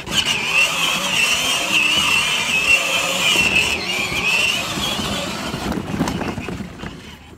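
A Jeep drives along a dirt trail with a steady, fairly loud engine drone and a gritty rumble underneath. The sound fades away in the last second.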